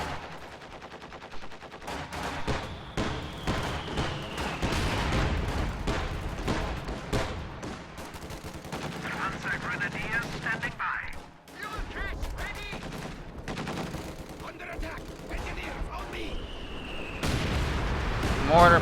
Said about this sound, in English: Mortar plus light artillery barrage bleeding this advance.